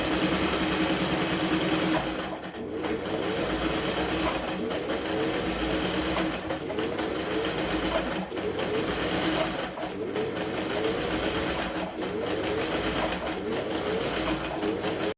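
A domestic sewing machine runs in close, loud bursts of rapid stitching with brief pauses between runs, a steady mechanical whir and needle clatter.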